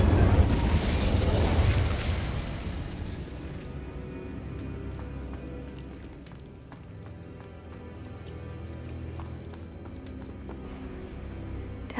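The Incendio fire spell bursts in Hogwarts Legacy with a loud whooshing blast at the start that fades into a softer crackling rumble and light mechanical clicks.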